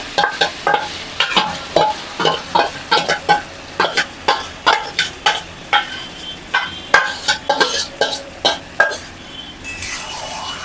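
Chicken cooking in a pan of frying onions and spices, stirred in a quick repeated rhythm, with utensil scrapes and clinks over a low sizzle, close and fairly loud.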